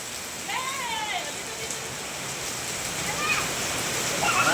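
Heavy rain pours in a steady, dense hiss that builds slightly toward the end, with voices calling out briefly over it.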